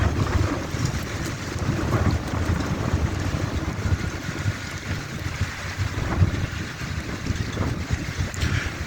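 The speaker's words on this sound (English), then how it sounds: "Some strong wind just came up from somewhere" Strong wind gusting outdoors and buffeting the microphone, a continuous rough broadband roar that swells and eases throughout without speech.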